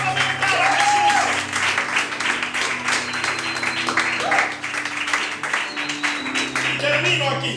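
A church congregation gives a sustained round of applause that keeps going under a preacher's voice and a low organ or keyboard drone.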